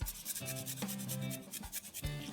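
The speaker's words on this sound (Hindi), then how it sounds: "अदरक को ग्रेट करके डालेंगे।" Fresh ginger is grated for a Gujarati handvo batter, giving a series of quick, close rasping strokes with short pauses between them, fairly quiet and with no talking.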